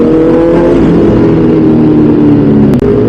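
A Honda CB650 big bike's engine drones loudly and close in slow traffic, holding a steady, strongly pitched run with a slight revving rise and no talk over it.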